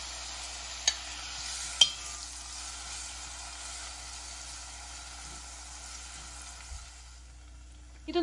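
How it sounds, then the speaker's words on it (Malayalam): Cut banana pieces sauté in a pan for banana dates payasam, a faint steady sizzle with two sharp utensil taps early and a scrape near the end, quiet and close. "പഴം ഞാനിവിടെ ചെറുതായിട്ട് കട്ട് ചെയ്ത് വെച്ചിട്ടുണ്ട്. അതും കൂടെ ഇതിലിട്ട് ചെറുതായിട്ടൊന്ന് വാട്ടിയെടുക്കാം."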